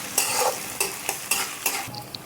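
Crushed ginger-garlic paste frying on high flame, stirred in quick strokes: a close sizzle broken by five or six sharp scraping stirs, with a faint metallic clink near the end.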